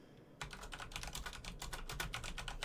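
Brisk typing on a computer keyboard, a quick run of close, fairly quiet key clicks that starts suddenly and continues steadily with no voices.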